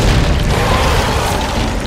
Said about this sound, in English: Dodge the meteors!